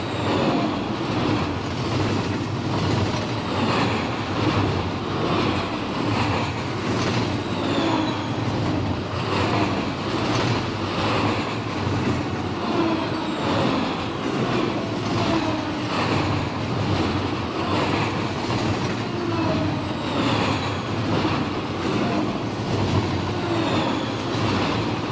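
Freight train rolling past in Run 8 Train Simulator v3, Boron Local, a loud sustained rumble with rhythmic wheel clatter and rail noise, no voices.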